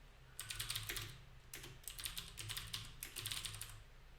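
A prompt being typed on a computer keyboard, quick bursts of crisp key clicks with short pauses between runs, close but quiet, with no talking.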